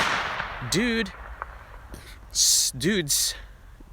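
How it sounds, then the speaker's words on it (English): Fireworks launched outdoors by a couple of high school kids whistle up and crack in sharp bursts, one after another, while someone says a word. "a couple of high school kids launching fireworks at me"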